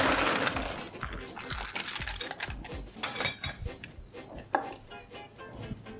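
Ice clattering and rattling as it is scooped into a cocktail glass while a mojito is built, a close run of sharp, irregular clinks and taps across several seconds.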